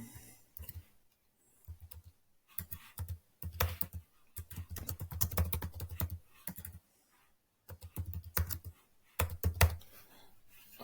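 A computer keyboard is typed on in irregular bursts of close, crisp key clicks, with short pauses between runs of keystrokes.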